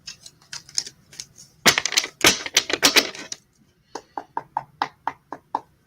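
Quick bursts of crisp tarot card riffling and flicking, several short flurries up close, ending in a run of evenly spaced light taps.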